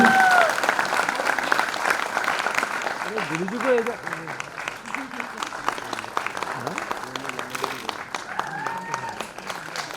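Loud applause from an audience at Kailash Kher's 50th birthday celebration in Mumbai, steady clapping throughout with crowd voices and talk running underneath.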